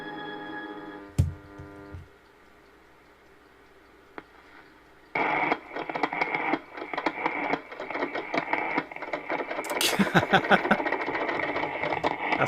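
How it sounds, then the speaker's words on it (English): A radio being tuned sweeps through a steady whine, a sharp click and quiet hiss, then bursts of crackling static and warbling signal fragments that grow busier and louder toward the end, close and without talk. "that's me messing about with that radio"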